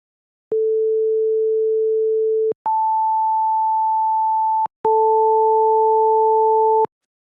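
Three steady pure sine tones, each about two seconds: 440 Hz, then 880 Hz an octave higher, then both sounding together, with brief clicks at each start and stop.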